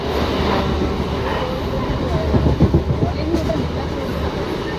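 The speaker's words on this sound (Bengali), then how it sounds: "বিধাননগর স্টেশনে এসে গেছি, এখন ট্রেনটা ধরবো গিয়ে।" A train at Bidhannagar station in Kolkata rumbles with rhythmic wheel clatter under steady, fairly loud background noise, with voices audible around it.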